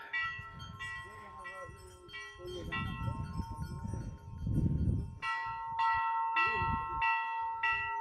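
Temple bells ring during an aarti at the Barfani Baba shrine in repeated metallic strikes, bright and ringing, under a crowd's chanting and voices.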